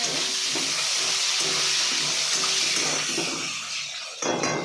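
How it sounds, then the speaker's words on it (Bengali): Potatoes fry in a pan over medium gas, giving a loud, steady sizzle with light scraping and stirring; it drops off near the end, then briefly resumes. "এবার আলুটা ভালো করে ভেজে"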